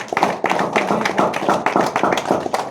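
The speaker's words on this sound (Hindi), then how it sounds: "ताली बजाइए" A church congregation claps hands together in quick, steady rhythm, dense and close, the sharp slaps continuing evenly throughout without pause.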